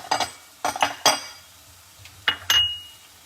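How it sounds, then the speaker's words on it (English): Berries dropped into a bowl in a home kitchen, with several light clinks and taps of dishware in short bursts, close by and fairly quiet. "Let's put our berries in a bowl."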